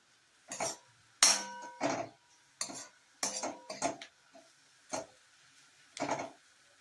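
A spoon or spatula stirs a dry radish and coriander stir-fry in a pan. Sharp metallic clinks and scrapes come in irregular bursts with short quiet gaps, close and clear, with no talking.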